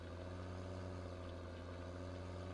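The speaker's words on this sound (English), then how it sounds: "You can hear the tractor struggling like mad" A farm tractor's engine labours under a heavy load while moving, a loud, steady droning rumble that runs continuously and close with no break.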